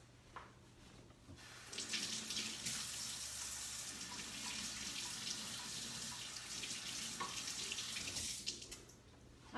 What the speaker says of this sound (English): So I'm just going to give this a quick wash